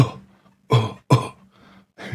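A man coughs in a mock demonstration while talking about a dance move: three or four loud, harsh coughs, close up, separated by short pauses.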